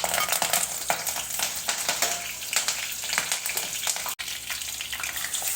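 Fenugreek seeds, curry leaves and soaked garlic cloves sauté in hot oil for a garlic thokku pickle, giving a loud, steady crackling sizzle with stirring scrapes throughout and a brief dropout near the end.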